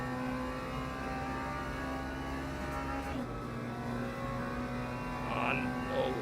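Race car engine in a racing video game at Silverstone, holding a steady droning tone with a brief rev rise near the end, moderately loud and continuous with no talking.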